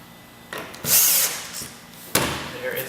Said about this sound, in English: drill it down